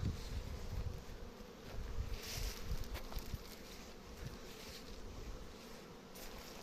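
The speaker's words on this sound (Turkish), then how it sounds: "Arılar güzel polen getiriyor. Güzel de çalışıyorlar." A dense swarm of honeybees hums continuously around a hive, a steady layered buzz with a rumbling low end and occasional louder passes nearby.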